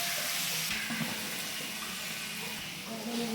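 Mint leaves stirred in a frying pan while cooking beef masala, a soft continuous sizzle and scrape from close by, fairly quiet and steady.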